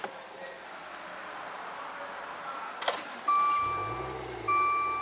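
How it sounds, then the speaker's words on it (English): A Maserati Quattroporte starts up: a brief starter whir, then the engine catches with a low exhaust rumble that swells and settles to idle, with a steady tonal whine and some faint cabin noise, close and clear. "See if I can capture some of the exhaust note when I start the car."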